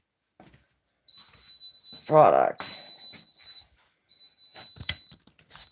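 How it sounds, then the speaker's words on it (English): A series of five high, thin electronic beeps from a bread maker alarm, steady and evenly pitched, interrupted by a person talking close by. "now we have heard the 5 beeps"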